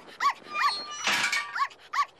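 A dog named Lorenza barks in a few sharp, separate yaps spaced across a short moment, with a burst of rougher noise in the middle, close and fairly loud.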